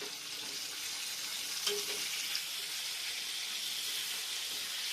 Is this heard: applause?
no